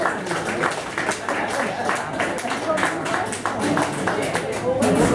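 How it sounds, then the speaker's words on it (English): An audience claps in applause, dense and continuous at close range, with voices mixed in under the clapping. "applause, everybody"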